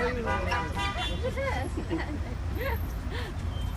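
Several short car-horn toots ring out amid Casablanca street traffic, mixed with a steady roadway rumble and voices talking nearby.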